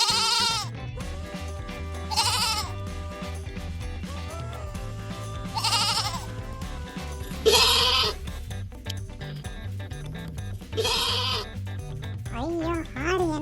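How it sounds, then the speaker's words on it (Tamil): Goats bleat in a series of loud, wavering calls spaced a couple of seconds apart, heard over steady, prominent music with a low, thumping bass line. "ஐயோ ஆடு என்ன இவ்வளோ சூப்பரா கத்துது"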